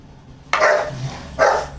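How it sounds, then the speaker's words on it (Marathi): A dog barks twice, close and fairly loud, with a short pause between the sharp barks and a low household hum underneath. "रॉकीचं भुंकणं चालू झालं"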